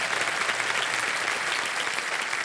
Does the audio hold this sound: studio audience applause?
yes